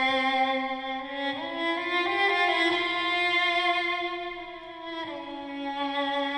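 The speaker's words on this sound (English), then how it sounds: "Next up, I added an ethnic phrase from East West Silk from Opus," Ethnic melodic phrase from the EastWest Silk sample library, a solo bowed or reed-like instrument playing a sustained, ornamented line with sliding pitch changes, clear and alone.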